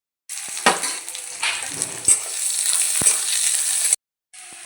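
Onion and spinach fry in oil in a kadhai, a close, steady sizzle that swells after a few sharp clinks, then cuts off abruptly before resuming faintly, with no talk.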